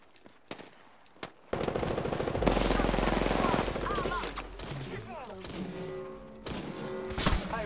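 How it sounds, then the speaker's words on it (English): Rapid automatic gunfire in Apex Legends during a ranked solo match, a loud sustained burst of machine-gun shots followed by scattered thumps, impacts and further shots, with brief game voice callouts mixed in. "I am taking fire."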